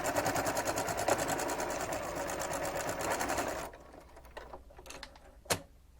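Sewing machine stitching down the tucks on a fabric face mask, a steady rapid mechanical chatter for several seconds that then stops, leaving faint handling clicks.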